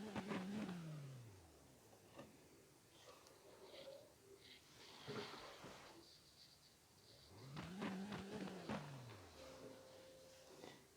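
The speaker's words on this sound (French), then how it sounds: "j'aime pas le son, par exemple, des voitures." Car engines from the racing game Nitro Nation, including a Renault Clio V6 Phase 2, revving in a few rising and falling bursts, faint and synthetic-sounding with quiet gaps between.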